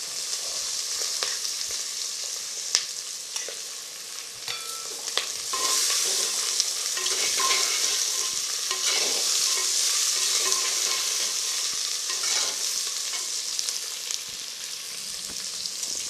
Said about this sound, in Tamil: அடுத்து நம்ம நறுக்கி வச்சுருக்கிற சின்ன வெங்காயத்தை போடுறோம்